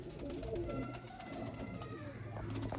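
Sialkoti pigeons coo softly and repeatedly in a loft, a quiet, continuous low burbling with overlapping calls and faint background voices.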